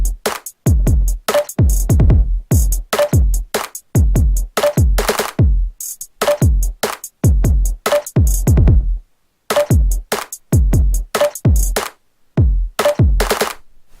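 Layered snare and percussion loop programmed in FL Studio, a dense, punchy pattern of sharp repeated hits in a steady rhythm with brief gaps, loud and close with no voices.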